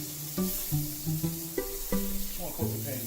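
Butter sizzles in a hot frying pan, a soft continuous hiss running beneath a person talking.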